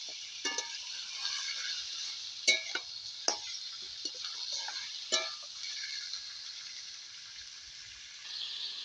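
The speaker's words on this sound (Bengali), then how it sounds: "মাংসটা আমি দিয়ে দিচ্ছি নাড়াচাড়া দিয়ে দিচ্ছি" Mutton being stirred in a cooking pot, with a few scattered clinks and scrapes of a spoon against metal over a soft, steady background hiss; no one speaks.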